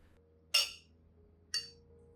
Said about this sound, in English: Stir the rice well with 500 milliliters of water.